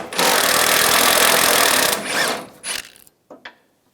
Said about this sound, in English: using an 18mm socket, take these two bolts out